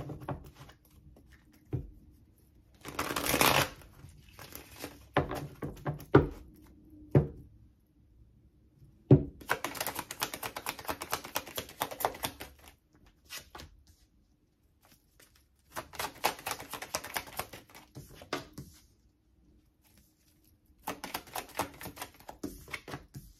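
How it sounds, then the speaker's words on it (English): Tarot cards being shuffled by hand in several separate bursts of crisp riffling and patter, with loud card-slapping thunks between them, close and alone with no talk. "I'm going to shuffle all the cards out first"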